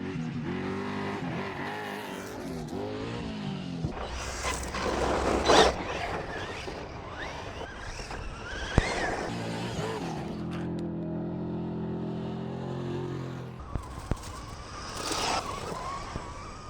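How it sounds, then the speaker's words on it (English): Two Lasernut RC cars, one on 3S and one on 4S, bash around, their electric motors whining and revving loudly with bursts of acceleration and occasional knocks from jumps or impacts, heard up close and steady throughout. "today I'm going to take out both of my laser nuts for a quick little bash around"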